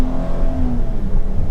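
A 2022 Chrysler Pacifica Limited AWD minivan engine accelerating, heard from inside the cabin as a steady low drone with a rising tone, close and fairly loud, no talking.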